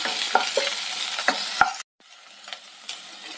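Ivy gourd frying in a pan, a close, busy sizzle broken by occasional stirring clicks, with a brief silent gap before the frying continues more softly.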